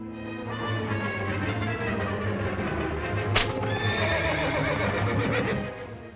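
A horse whinnies and neighs amid steady clip-clop of hooves, with a sharp brief burst midway; close and continuous, no talking.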